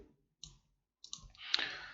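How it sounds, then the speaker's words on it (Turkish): A computer mouse clicks a few times at close range while video streaming software is used on a desktop, sharp separate clicks followed by a brief rustling handling noise, with no talking. "Artı simgesine tıkladım."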